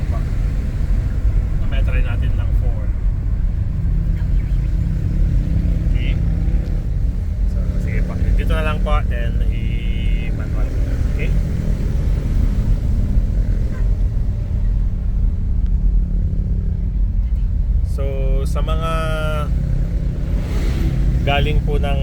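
Toyota Grandia GL 2025 with an automatic transmission in manual mode: a steady low engine drone and road rumble continues throughout from inside the cabin, with someone talking intermittently over it.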